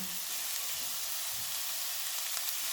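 Ingredients fry in a pan with a steady, even hiss, a close continuous sizzle that holds without change throughout the short stretch.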